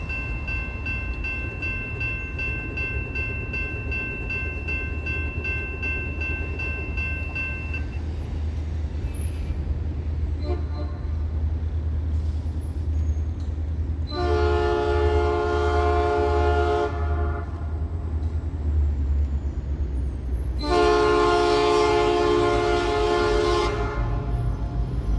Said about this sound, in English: I would catch local NSP-42 going north and south.